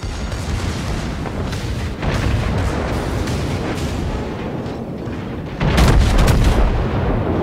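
Enemy battleship gunfire striking the player's ship in a naval video game: rumbling heavy booms and dense blasts, loud and continuous, with a stronger impact burst near the end.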